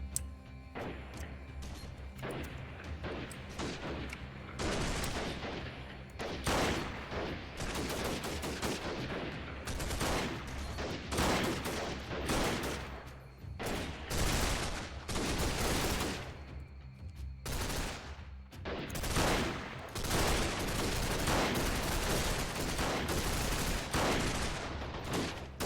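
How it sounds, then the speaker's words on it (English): Dense, sustained video-game gunfire with shotgun blasts among it, rapid overlapping shots and bursts continuing loudly and nearly nonstop throughout. "The heck are you guys shooting at? Ain't no way them shotguns are making it that far."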